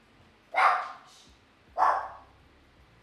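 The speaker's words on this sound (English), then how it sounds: "He was barking a little bit." A dog barks twice, sharp and fairly loud, about a second apart, with quiet between the barks.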